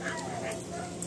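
A Rottweiler gives a brief, soft whimper, a faint high whine heard close by with no talking over it.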